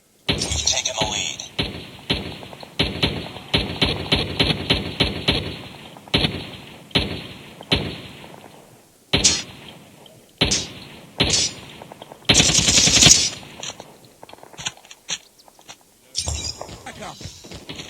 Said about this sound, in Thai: ยิงปืนในเกมเนี่ย เสียงปืน หรือว่าเสียงระเบิด